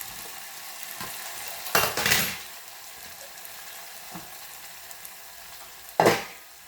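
Ven pongal ingredients fry in a pan on a stove, giving two loud sizzling bursts as they hit the hot oil, with softer stirring and faint utensil clinks in between.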